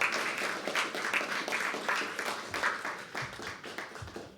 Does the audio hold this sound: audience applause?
yes